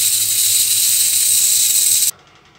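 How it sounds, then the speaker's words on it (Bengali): A pressure cooker whistle while boiling mutton with bay leaf, a loud steady hissing jet of steam that holds for about two seconds and then cuts off abruptly. "3টে সিটি দিয়ে মাটনটাকে আমি সেদ্ধ করে নেব।"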